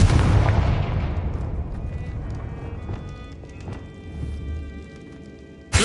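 A Confringo blasting-spell explosion in a wizard video game: a loud, broad burst that slowly decays over several seconds, followed by a sharp new blast right at the end.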